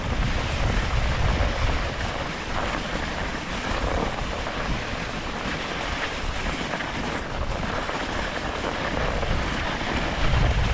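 Wind on a cold, bright day during a sled dog team run, a broad, steady rushing roar buffeting the microphone throughout, with no clear voices.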